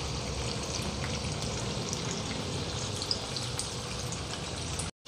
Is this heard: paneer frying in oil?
yes